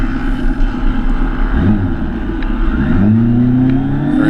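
Drag-strip motorcycles race at a Wednesday night drags event, their loud engines droning steadily and then revving sharply upward near the end.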